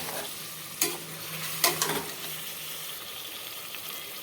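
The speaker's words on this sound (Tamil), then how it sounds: "சிக்கனுக்கு தேவையான அளவு உப்பு சேர்த்துட்டு நல்லா வதக்கி விட்டுறலாம்." Washed chicken sautéing with salt in a pan for chicken biryani, giving a steady close sizzle with a couple of sharp stirring scrapes.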